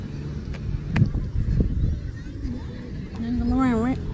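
Several honking calls from birds at a beach as they are fed, short and close, with a wavering honk near the end, heard among people talking.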